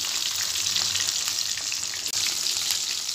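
Chicken pieces frying slowly in oil for restaurant-style fried chicken, a dense, even bubbling sizzle close up, with a brief dip midway and no voices.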